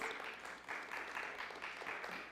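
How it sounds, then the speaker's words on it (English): Unitarian church congregation clapping during a service, a faint, distant patter of scattered applause with rhythmic bursts, quiet and short. "you can clap for budding trees."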